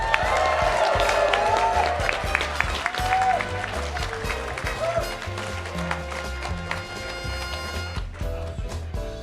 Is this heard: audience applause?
yes